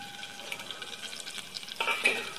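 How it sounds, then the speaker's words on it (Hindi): Thickly chopped onions go into a hot pan for an eggplant and potato dish, giving a brief sizzle and hiss with stirring scrapes, rising to a louder burst near the end. "अब इसके साथ ही हम जो है अपनी प्याज भी ऐड कर देंगे"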